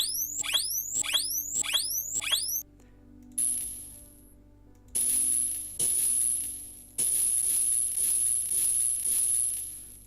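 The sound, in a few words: electric shock sound effect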